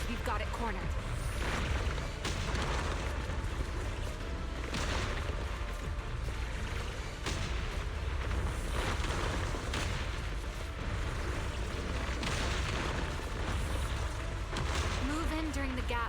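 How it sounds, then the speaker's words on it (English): Repeated explosions in the Zenless Zone Zero video game, a dense, loud, continuous wash of booming blasts and debris layered under game music and effects, with characters talking throughout. "Move in during the gaps between explosions."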